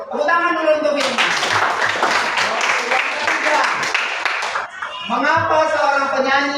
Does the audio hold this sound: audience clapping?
yes